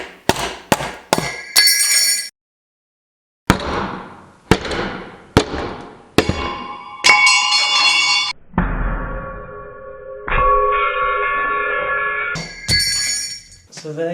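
A hammer cracks against a seized bicycle bottom bracket bearing, sharp metallic strikes landing one after another in an irregular series, some ringing out with a clanging tail, loud and close.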